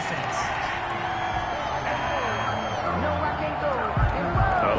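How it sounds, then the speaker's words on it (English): A stadium crowd in a PS4 American football video game murmurs and jeers after a roughing-the-passer personal foul penalty. The steady crowd noise sits beneath continuous commentary. "Oh, this crowd does not like that call."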